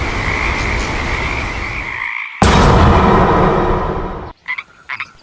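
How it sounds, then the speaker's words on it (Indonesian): A frog croaks loudly and steadily in a dense, continuous chorus, broken by a brief gap, then a few isolated croaks trail off at the end. "Katak adalah hewan yang bisa hidup di air dan di darat, atau dapat disebut sebagai amfibi."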